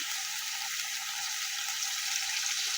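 Soaked spice paste sizzles in extra oil in a pan for a spicy pointed-gourd curry, a steady soft hiss with faint bubbling throughout and no voices.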